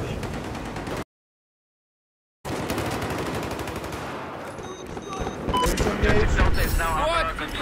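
Rapid automatic gunfire in the online shooter Battlefield 4, loud and continuous bursts rattling on either side of a brief dropout, with a player talking over the shooting.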